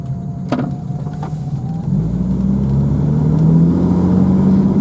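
1960 Jaguar Mk2 saloon engine running and building from a low rumble into a steadier, louder drone as the car pulls away, heard from inside the cabin with a couple of faint clicks early on.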